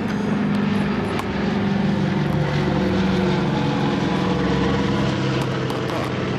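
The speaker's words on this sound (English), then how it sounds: "Also, you can see a B-25 bomber." A World War II B-25 bomber flies over a WWII reenactment in Benton Harbor, its propeller engines producing a loud, continuous droning roar that stays near throughout.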